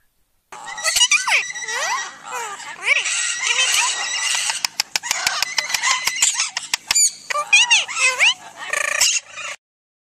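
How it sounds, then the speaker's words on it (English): A parrot squawks in harsh, repeated calls mixed with rapid clicking and chattering bursts, loud and close, filling most of the clip with no talk over it. "P for parrot"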